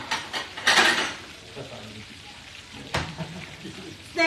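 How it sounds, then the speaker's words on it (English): Catfish frying in hot oil gives a faint, steady crackle and spatter, with a few clinks of cookware and some muffled voices in the background. "they frying the catfish"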